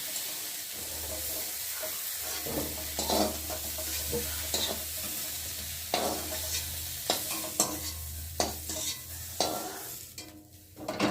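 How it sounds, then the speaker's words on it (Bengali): Cauliflower frying in oil in a wok, a continuous close sizzle broken by repeated scraping stirs and occasional clinks of the utensil against the pan. "এখন আমি তেলে ভালো করে ভেজে নেব"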